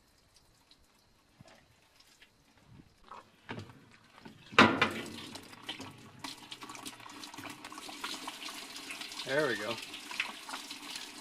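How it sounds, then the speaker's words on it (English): Water runs from an opened hose outdoors at an off-grid desert laundry setup, starting faint and building into a steady splashing gush after a sharp knock, while someone speaks briefly. "Alright, hose open. See, the hose is opening."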